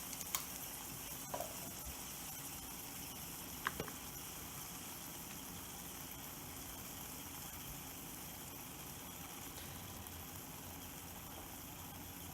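Keto crunch wrap frying in browning butter in a pan on a stovetop, giving a steady, low sizzling hiss throughout with a couple of faint clicks, no talking.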